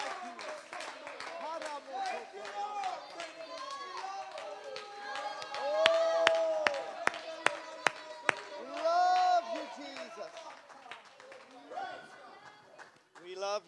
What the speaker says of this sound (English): Let's give the Lord a hand clap of praise tonight.